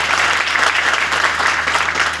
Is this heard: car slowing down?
no